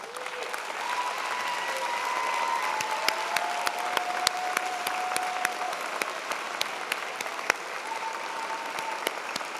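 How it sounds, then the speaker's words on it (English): Sustained applause from a large audience at a fall university convocation, dense steady clapping throughout with faint voices mixed in. "let's have another round of applause"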